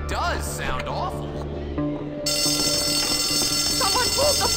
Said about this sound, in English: Please do not pull the fire alarm!